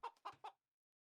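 Chickens cluck in the Age of Empires II video game: three short, clear clucks in quick succession, close and alone, then silence.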